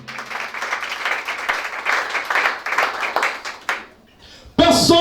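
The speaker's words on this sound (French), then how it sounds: "Acclamons Jésus." A church congregation applauds and cheers for Jesus with loud, sustained clapping and shouting that runs for about four seconds, then drops briefly before a singing or shouting voice bursts in.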